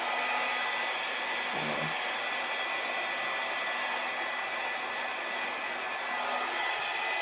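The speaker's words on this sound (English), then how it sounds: "I'm going to blow out some of these edges to get a little more jaggedy" A hair dryer blows steadily at close range over wet acrylic pour paint, pushing out the edges; a loud continuous whoosh with a brief dip near the start and a voice speaking once.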